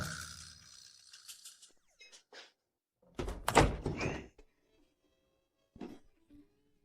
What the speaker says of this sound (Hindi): मैक्स, दरवाजा खोलने में इतनी देर क्यों लगाई?